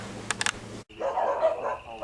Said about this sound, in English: A lot of dogs barking in the background